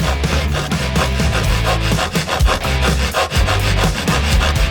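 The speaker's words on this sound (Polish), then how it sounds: "piłowanie to ciężka praca" A saw cuts through a cookie in repeated back-and-forth strokes, close and loud, with a rhythmic rasping texture as the blade grinds through the brittle biscuit.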